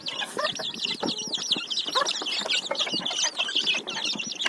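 Chicks clucking and peeping steadily while feeding, many high chirps overlapping in a busy, close chorus with soft scratching and movement underneath.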